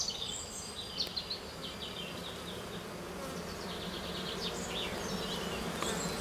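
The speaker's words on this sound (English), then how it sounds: "Just bees everywhere, it's just really beautiful." A dense, steady hum of many honeybees buzzing all around their hives, with a few birds chirping faintly in the background.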